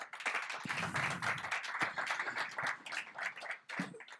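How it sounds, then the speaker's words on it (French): Scattered, moderately close clapping from a small audience welcoming a director general onto a stage, uneven individual claps rather than a dense roar. "On peut applaudir Monsieur Arthur Millet."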